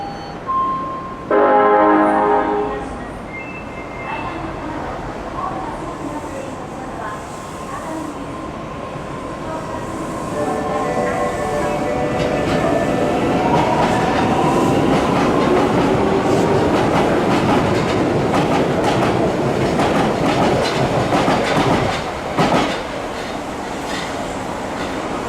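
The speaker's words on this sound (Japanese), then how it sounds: "The train on platform 2 is bound for Cosmo Square." Osaka Metro Chuo Line 7000 series train pulling into a station platform, a quiet start with a brief chime, then a swelling rumble of wheels and clatter that holds loud, with faint squeals near the end.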